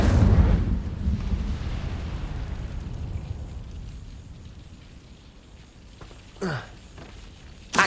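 Incendio fire spell cast in Hogwarts Legacy: a loud, whooshing burst opens, then a roaring blaze fades into a long crackling tail. Two sharp magical zaps follow near the end.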